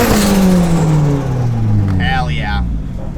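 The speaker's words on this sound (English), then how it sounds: "I'm just doing a first gear pull because with these grippy tires, I don't want to let go here." A turbocharged Honda Civic on grippy tires pulls hard in first gear, its engine note rising steadily and loud before easing off, with a brief voice near the end.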